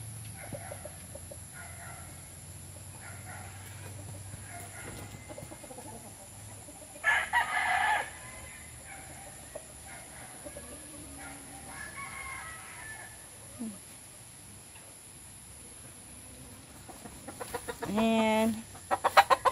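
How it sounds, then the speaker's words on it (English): A rooster crows loudly in a rural province yard, two distinct crows several seconds apart between quieter clucks and faint background sounds. "He is a high station rooster."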